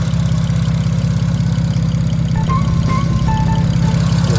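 A BMW 335xi engine idles steadily, a close, continuous low rumble with an even pulsing rhythm and no talk over it.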